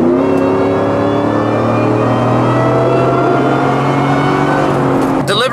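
A supercharged Ford F150 pickup making about 600 wheel horsepower pulls hard under acceleration, its loud, steady engine roar and whine continuing unbroken for several seconds with traction control on.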